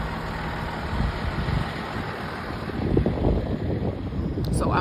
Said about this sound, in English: Here's one of our beautiful city refuse trucks.